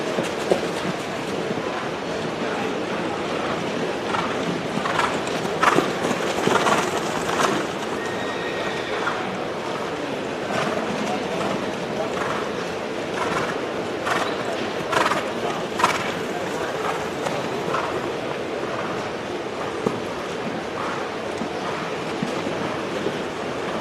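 Horse hooves clip-clop at a breeders' showcase auction as a foal is led through the ring, irregular muffled steps under a constant hum of crowd and hall noise, with voices murmuring in the background.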